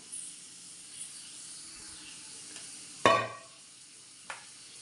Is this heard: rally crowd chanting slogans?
no